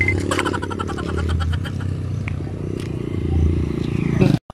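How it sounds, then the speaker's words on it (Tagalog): A motorcycle engine drones steadily close by for several seconds, rising slightly near the end before cutting off, with voices faintly mixed in. "Tabi, may motor."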